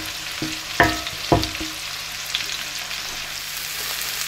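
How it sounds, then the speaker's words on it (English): Cauliflower and onion tipped into a hot pan for aloo gobi, with a few sharp clatters and bursts early on, then a steady soft frying hiss that carries on alone. "Here comes the cauliflower and the onion."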